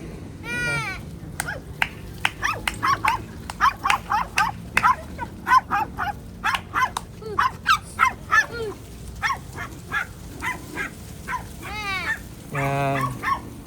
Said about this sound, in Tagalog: Tingnan nyo po yung mga aso. Yan sila ang border collie.